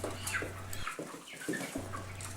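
Several young chickens being moved from brooder to coop, clucking and calling in bursts, fairly close, with a low hum dropping in and out between the calls.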